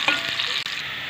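Onion stirred and frying in a pan, a dense steady sizzle with scraping stir sounds, close and uninterrupted.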